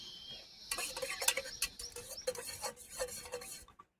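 A spoon stirs food colouring into juice, making quick clinking and swishing taps against the container in an irregular rhythm, close and fairly quiet, ending abruptly.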